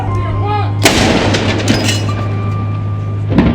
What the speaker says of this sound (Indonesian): dentuman meriam sebanyak 96 kali juga ditembakkan